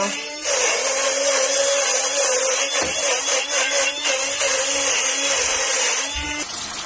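A Blendigo blender running with a little water and dish soap to clean it gives off a loud, steady high whirring drone for about six seconds, then cuts off, with no talking.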